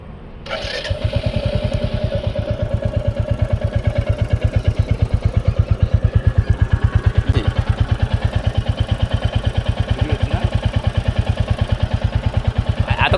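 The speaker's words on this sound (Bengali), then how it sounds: "চলো এবার তোমাদেরকে ইঞ্জিন সাউন্ড অন করে দেখাবো" A 2024 Royal Enfield Bullet 350 BS6 motorcycle starts and settles into a loud, close, steady thumping idle with an even rhythmic beat throughout.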